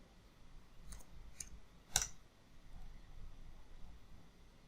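A few quiet, sharp computer mouse clicks, two close together and then a slightly louder one, over faint background hiss.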